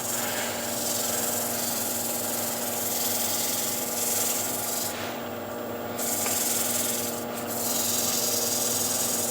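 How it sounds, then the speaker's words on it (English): A non-abrasive pad rubs universal oil and wax into a timber surface, giving a continuous close, soft scrubbing hiss with slight rhythmic swells and two brief breaks. "have here this non-abrasive pad, and this is OD's oil, the universal stuff, this, and I'll put the wax on top"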